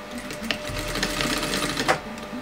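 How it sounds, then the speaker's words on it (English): A sewing machine stitches a bespoke valance in a steady, close mechanical whir with a rapid needle rhythm, running continuously through the short stretch without any talk. "I sew just before the bump, and then I'm only going to sew down, say, 1 inch downwards."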